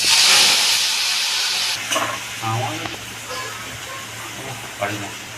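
Beetroot, carrot and capsicum fry in hot oil with a loud steady sizzle and hiss, which eases as stirring scrapes and clatters sound in the pan, with brief speech in between.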